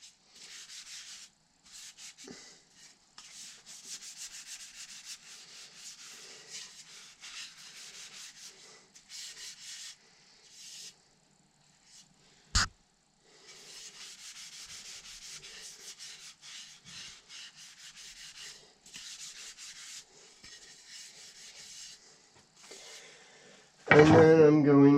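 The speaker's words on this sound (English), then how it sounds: "I'm going to go over this with some steel wool, like you would most things between coats." Steel wool rubbed over a finished wooden tomahawk handle between coats, giving steady close scratchy strokes in repeated bursts over about 24 seconds, ending in a brief louder knock.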